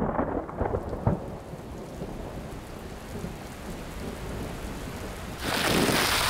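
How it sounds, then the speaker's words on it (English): A thunderstorm with heavy rain on open plains, a steady dense rush of rainfall with low rumbling thunder throughout and a louder surge of rain near the end, no voices. "We're in a bit of a rainstorm."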